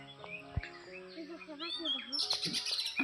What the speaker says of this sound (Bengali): আশেপাশে হচ্ছে পাখির শব্দ